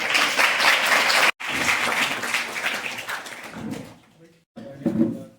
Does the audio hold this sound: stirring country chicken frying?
no